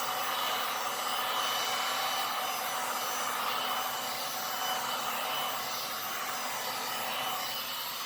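A heat gun blows over a fresh ribbon pour of StoneCoat resin to pop cells, giving a continuous, fairly loud airy roar and hiss that holds steady from start to finish with no talking.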